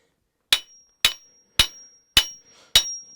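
A reversed axe strikes armor five times in an even, evenly spaced rhythm, each blow a sharp metallic clang with a brief ringing tone.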